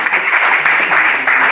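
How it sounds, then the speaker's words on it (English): Audience applause at a World Public Relations Day event, a dense, steady wash of many hands clapping, loud and close, filling the whole brief moment without a break. "Let's give him a big round of applause."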